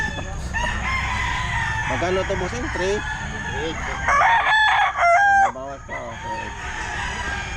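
Roosters crow repeatedly at a pet market, several loud harmonic calls, some close and some farther off, with people talking nearby throughout.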